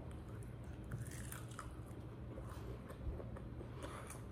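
Someone bites into and chews a piece of Puerto Rican food up close, with soft, moist squishing and occasional light crunches over a quiet room.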